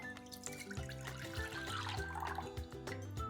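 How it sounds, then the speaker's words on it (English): Water dumped out of an opened coconut, a brief steady splashing pour lasting a few seconds, with background music playing throughout. "So you just dump the water out."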